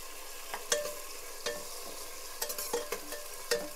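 Two chopped onions fry in a pan toward golden brown, giving a quiet steady sizzle broken by occasional soft stirring scrapes, close and without talk.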